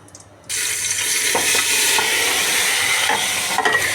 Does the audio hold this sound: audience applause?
no